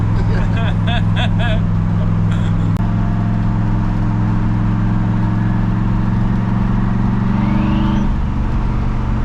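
A Mk1 Escort powered by a twin-turbo LS V8 engine drones loudly and steadily, its deep tones holding level with a slight rise toward the end, while people talk over it at the start.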